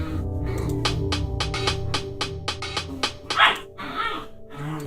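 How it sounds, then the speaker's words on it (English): Dogs bark in a rapid, loud run of repeated barks indoors, with a yip near the end and a low hum underneath. "make those dogs be quiet"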